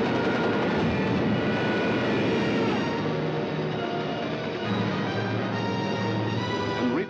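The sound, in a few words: German bomber aircraft flying over London, from a 1943 film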